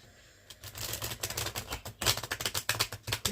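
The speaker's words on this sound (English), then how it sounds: "I actually am pretty good at shuffling." Tarot cards shuffled by hand in a quick run of crisp, papery riffles and flicks, close and fairly loud, growing busier toward the end with no talking.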